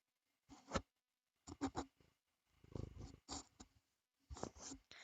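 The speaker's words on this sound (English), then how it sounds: "that's my cat bumping the microphone" Pet cat bumping and rubbing against a microphone, producing several close, irregular soft thumps and rustles separated by short silences.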